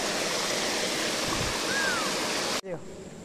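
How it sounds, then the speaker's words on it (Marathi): A waterfall rushes down rocks on the Prabalgad fort trek near Mumbai as a steady, loud, broadband roar filling most of the clip, then cuts off abruptly near the end. "बघू शकता हा पाणी, हा धबधबा खाली जाते."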